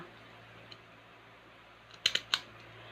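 Scissors trim the base of a folded banana leaf in a quiet room: three crisp, close snips come in quick succession near the end after a near-silent stretch.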